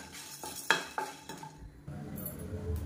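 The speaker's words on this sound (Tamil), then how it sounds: "இது வந்து நல்லா வாசனை வர அளவுக்கு வறுத்துக்கலாம்" Chillies, pepper and cumin dry roasting in a pan, stirred with a spoon: several close metallic scrapes and taps against the pan over a faint low sizzle, with no voices.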